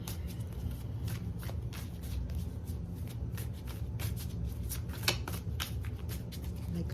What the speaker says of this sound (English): I am not the best shuffler.